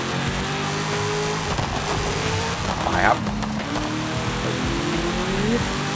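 The engine of a Hennessey Venom GT in the racing game Forza Horizon 5 drones steadily at high revs with a brief tire squeal, while someone talks over it.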